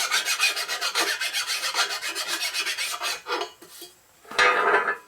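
Flat file cutting a metal Harley Shovelhead motorcycle part, a fast run of close, bright rasping strokes that slows into a few separate scrapes, then one louder final stroke; no speech.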